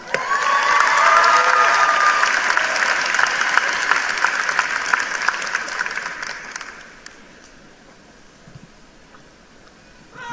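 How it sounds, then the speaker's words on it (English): A large crowd applauds at a Joplin High School 2019 graduation ceremony for a senior speaker, with dense loud clapping and scattered cheers for about six seconds before the noise fades to a quiet hall. "let's introduce and give a big round of applause for Phoebe Watson"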